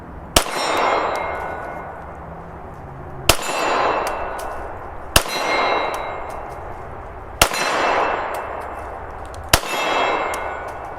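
Five shots from a BCA Grizzly 101 pistol, a Glock clone, ring off steel targets at 25 yards: each sharp crack is followed by a loud metallic clang that rings out, spaced about two seconds apart.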